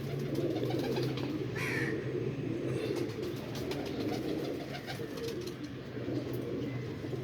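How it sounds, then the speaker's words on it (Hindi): Pigeons coo steadily and close by in a loft, with soft overlapping throaty calls and wing rustle throughout. "इस कबूतर के साथ ये जोड़ा।"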